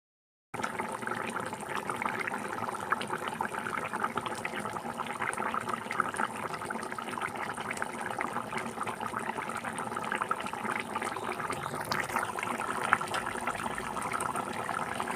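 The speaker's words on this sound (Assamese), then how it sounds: "মাছখিনি দি এতিয়া 2-3 মিনিটমান উতলিব দিম" Fish curry simmering in a new iron wok, a steady bubbling, hissing boil that runs close and continuous from start to finish with no talk.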